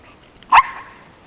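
A dog on a leash gives a single short whimpering yelp, loud and brief in the middle of an otherwise quiet moment.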